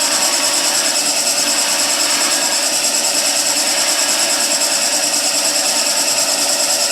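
A skew chisel rolls beads on a spindle spinning in a wood lathe, producing a loud, steady whirring drone with a constant hiss of cutting and no pauses.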